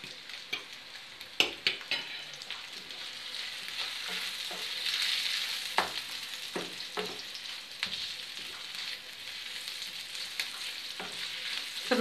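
Sausages sizzle and fry in a pan for an omelette with sausages and cheese, a steady close crackle broken by sharp pops and stirring clicks, with no talk.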